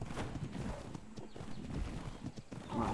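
Horse hooves clip-clop in a video game, a quiet, uneven run of hoof knocks with faint rustling and ambient noise around them.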